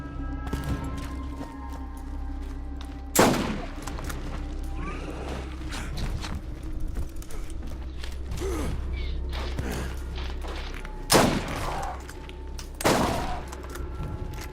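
Video game gunfire cracks out in a few sharp, separate bursts amid creaking, mechanical in-game ambience, with the loudest shots spaced well apart.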